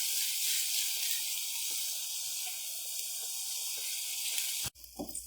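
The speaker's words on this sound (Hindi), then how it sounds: "प्याज को हम 3 से 4 मिनट फ्राई करेंगे।" Finely chopped onions fry in a pan, giving a steady close hiss that cuts off abruptly near the end, followed by a brief different noise.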